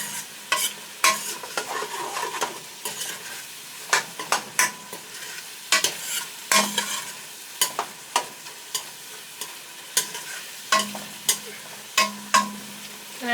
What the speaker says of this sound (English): And I just saute that